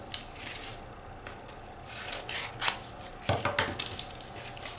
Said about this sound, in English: I'm going to cut it